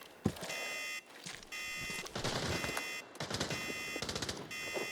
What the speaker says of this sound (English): Now we hear some gunshots.